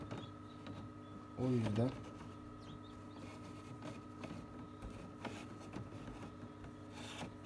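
A 130-egg Beren incubator runs with a steady mechanical hum and a faint whirring, continuous underneath. Someone speaks briefly in Turkish over it.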